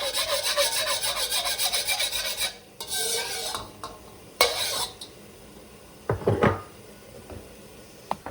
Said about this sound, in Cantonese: 用翻呢個鑊燒紅佢，就爆薑咁樣炒番茄噶啦